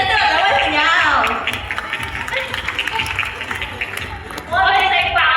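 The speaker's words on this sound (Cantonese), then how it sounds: "俾啲掌聲2位朋友" An audience at Ocean Park in Hong Kong gives brief scattered clapping for two people, framed by a voice speaking over it before and after.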